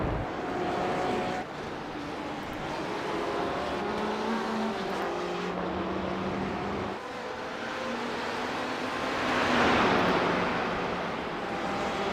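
Race cars in a Road Atlanta racing video game pass a Porsche, engines droning and shifting pitch as several cars go by in succession, with a loud whooshing swell near the end and no talk.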